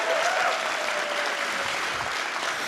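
Applause at a 2023 TSIBA graduation ceremony honouring the inaugural Professor Fatima Abrams Award, a dense, steady wash of many hands clapping throughout, with no talk over it.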